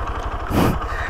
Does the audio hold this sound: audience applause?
no